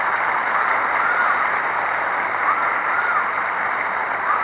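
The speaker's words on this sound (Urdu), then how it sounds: "اس حال میں تالیوں کی گونج آپ کو بتائے گی کہ یہ عمران خان کو کتنا چاہتے ہیں" Sustained, dense applause from a large crowd of students fills the hall at a loud, steady level throughout, with no voices rising above it.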